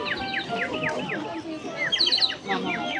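A person blows a bird whistle at a Korean folk village, imitating a bird call with a rapid series of bright, warbling chirps and trills, close and fairly loud, with people talking in the background.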